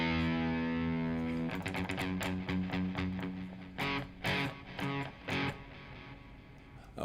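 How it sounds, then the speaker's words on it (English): Electric lead guitar with light distortion plays an improvised line: a sustained chord rings out, then choppy, syncopated picked notes and short bursts, close and clear with no talk. "So now this I should have some light distortion going."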